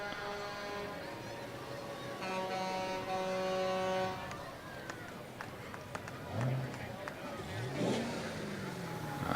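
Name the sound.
pickup truck engine revving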